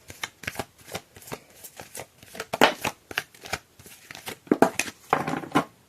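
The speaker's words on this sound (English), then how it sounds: "You saw me shuffle." Egyptian Gods Oracle cards being shuffled by hand, close and crisp, with rapid irregular bursts of riffling and slapping card edges repeating throughout.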